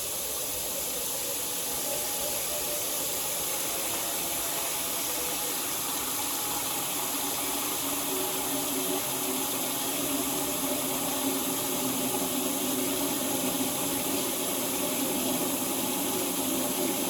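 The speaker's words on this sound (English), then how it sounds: "fill up my sink and pump the water from my sink into the tank" Water from a sink being pumped into a new aquarium tank, a continuous even rushing and hissing flow with a faint motor drone, steady for the whole stretch.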